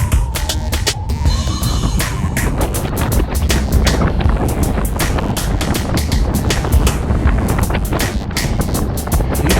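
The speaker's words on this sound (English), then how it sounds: "You can hear that wind." Strong wind roaring across the microphone during a group bicycle ride on a slight grade, a loud continuous buffeting rush with gusty thumps throughout, no talking.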